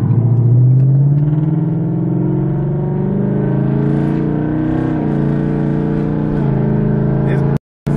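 A loud straight-piped Ford Mustang exhaust revs up and holds a deep, rumbling roar close by, rising in pitch before cutting off abruptly near the end.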